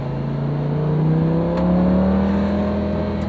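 A Lamborghini Gallardo supercar's engine drones and climbs steadily in pitch as it revs on a road in Dubai, heard close and loud from inside the car, with no talk.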